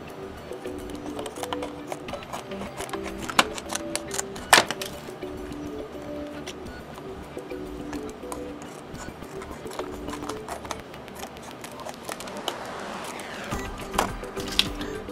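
Scissors cut out a paper hologram template in a string of small, close snips and clicks at an irregular pace, with paper rustling and one sharper crack partway through.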